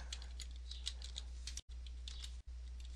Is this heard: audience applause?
no